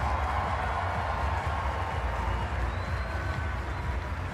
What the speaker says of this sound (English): Let's give all of the outstanding student athletes, coaches, and staff from the University of Louisville a round of applause